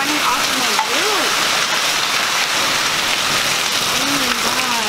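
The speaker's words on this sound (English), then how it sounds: "Look how much water is running off of my roof." A hailstorm with heavy water pouring off a house roof makes a loud, continuous rushing downpour, while voices murmur briefly in the background.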